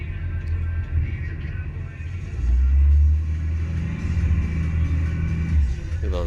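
A garbage truck working an Australian residential street rumbles low at idle and swells into heavier engine surges as it brakes and moves off, a continuous close drone with a brief hiss near the end.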